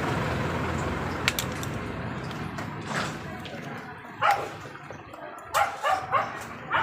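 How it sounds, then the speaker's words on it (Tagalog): A dog barks in several sharp bursts toward the end, beside a noisy street with steady traffic rumble underneath. "at may maingay pa rin na aso"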